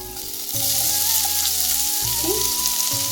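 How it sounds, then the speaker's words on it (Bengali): Black cumin, chopped garlic and onion hit hot oil in a pan with a loud, continuous hissing sizzle, swelling as the onion goes in, with faint clinks and no talking. "ফোড়নে দিচ্ছি কালজিরে, কুচানো রসুন, এবার দিব কেটে রাখা পেঁয়াজ"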